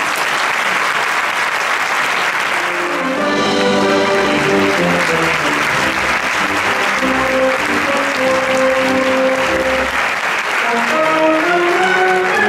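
Crowd applause at the festival proclamation of the Moros i Cristians festival in Petrer, a loud, sustained clapping with a tuneful band-like melody rising underneath through the middle.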